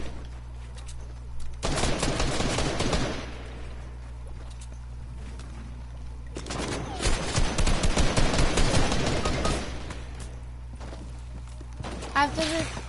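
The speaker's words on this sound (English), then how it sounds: "I'm literally getting shot at." Bursts of video game gunfire in an online arena duos match, coming in dense volleys around two to three and seven to ten seconds, loud and close, with a steady low hum underneath.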